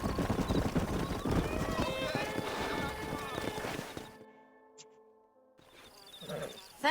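Horse hooves clip-clop in Red Dead Redemption 2, a steady rhythmic gait heard up close under game dialogue and ambient sound, dropping away near the end before noise returns.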